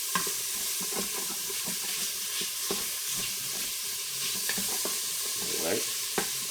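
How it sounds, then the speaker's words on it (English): Bacon sizzles as it browns on the sauté setting of an Instant Pot pressure cooker, a steady close crackle and hiss with scattered sharp pops and faint stirring scrapes throughout. "Oh, love to hear that bacon sizzle, baby."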